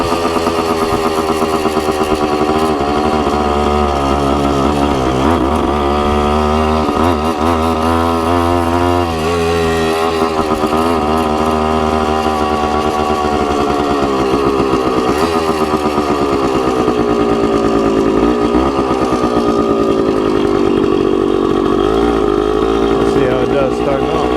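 A Suzuki TC-90 motorcycle engine with a carburetor problem runs continuously up close, its drone rising and falling as the revs climb and drop through repeated throttle blips and a downshift.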